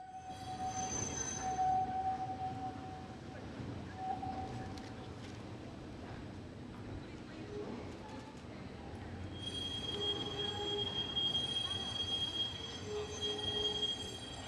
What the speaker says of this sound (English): the tram shares the road with other cars and pedestrians as it passes some shops